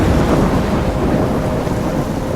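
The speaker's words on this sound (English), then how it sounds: "I'm trapped in a storm?" A thunderstorm in the video game Life is Strange, with steady heavy rain and deep rolling thunder filling the whole stretch at a loud, even level, no voices.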